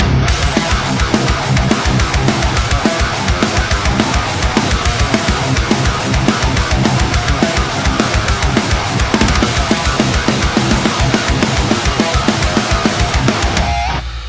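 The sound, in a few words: double-tracked guitar recording for a cover song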